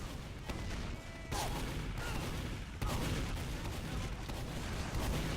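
Explosions and gunfire from players bombing in during a competitive Team Fortress 2 match, dense crackling bursts with sharp onsets at steady intervals, fairly faint in the mix.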